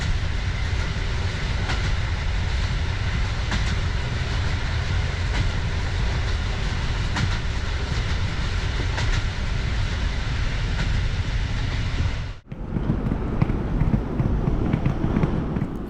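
A train at Warsaw East railway station on a chilly April evening, with a loud, steady rumble and rolling rail noise throughout, then a brief sudden drop near the end before the rumble resumes.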